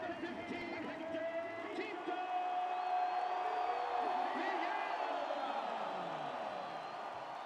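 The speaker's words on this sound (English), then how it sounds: "to a warm round of applause" A stadium crowd at a Concacaf Champions League football match in Georgia keeps up a steady, distant roar with scattered whoops as a player is substituted off, while a commentator talks over it throughout.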